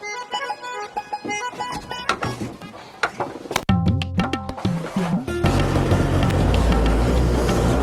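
A car engine is started: a jumble of tonal noises and sharp knocks gives way to a loud, steady low rumble that carries on to the end.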